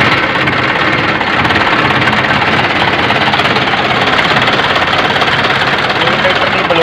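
Sonalika 750 double-clutch tractor diesel engine running, a loud, steady, rough close-up idle with a continuous knocking rumble and no pauses.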